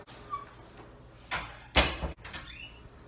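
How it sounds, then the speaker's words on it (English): A door is swung shut, giving a couple of muffled thumps and a sharper knock near the middle, with faint rustling around them and no talking. "close the door"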